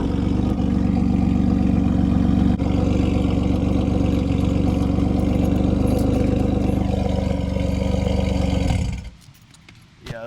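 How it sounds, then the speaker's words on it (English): 2015 Ford Taurus Limited engine running with a rusted exhaust tip hanging loose, a steady loud rumbling drone for several seconds before dropping away near the end. "my exhaust sounds different because the exhaust tip is literally hanging"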